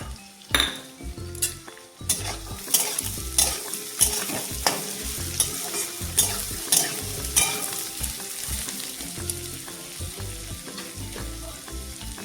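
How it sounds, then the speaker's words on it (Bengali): Squash stir-frying in a pan for a squash and soybean dish, with steady sizzling and repeated close, loud scrapes and clinks of a utensil against the pan in an uneven rhythm. "স্কোয়াশটা একটু ভালো করে ভেজে নিব"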